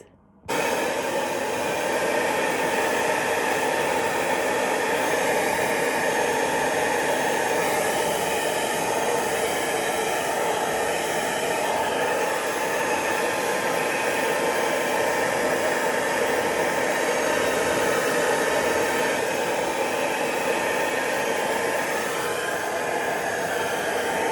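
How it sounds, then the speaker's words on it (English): A hair dryer blow-drying hair runs as a steady, loud, continuous whoosh of air for the whole stretch, with no speech. "So I'm going to go off now and blow my hair"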